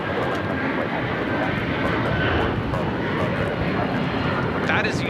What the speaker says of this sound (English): That is United Airlines 1591 taking off to Houston Intercontinental on a 757-200.